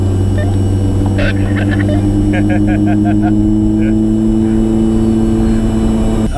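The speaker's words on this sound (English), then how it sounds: "Just warm the cars up" Race car engines idle and rumble steadily up close while warming up, with occasional revving and faint clicking and tapping over the constant engine drone.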